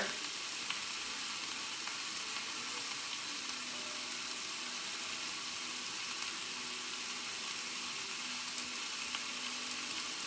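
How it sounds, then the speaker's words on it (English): Andouille sausage browning in a soup pot gives off a steady, close sizzle of frying for about ten seconds, with faint stirring and no talk. "Let me get my soup and stir."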